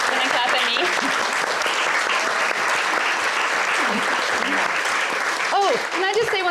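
An audience at a live cookbook Q&A applauds warmly, dense clapping holding steady throughout, with a few voices faintly audible beneath.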